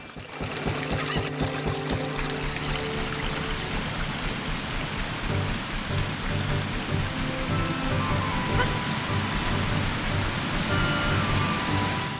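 Steady rushing roar of Sleepless Waterfall in the video game Ocarina of Time, a dense continuous wash of water noise with low tones underneath, loud and unbroken throughout.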